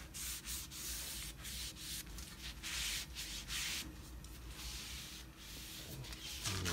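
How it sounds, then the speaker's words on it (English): Oil is rubbed by hand across a 22-inch Blackstone griddle for seasoning, giving a continuous close dry scrubbing and rubbing texture with short pauses, fairly quiet and with no talk. "So let's just rub that in."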